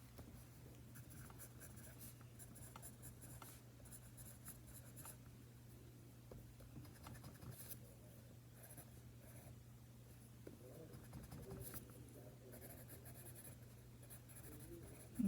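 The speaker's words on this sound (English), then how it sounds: "I'm gonna write down your results here." A pencil scratches faintly across paper, recording results at a school table, with soft continuous strokes over a low steady hum throughout.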